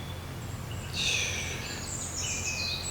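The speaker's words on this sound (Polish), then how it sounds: "Tam w oddali słychać jakieś właśnie też ptaszki." Faint bird chirps in the distance, a few high calls over steady low background rumble, with no one speaking.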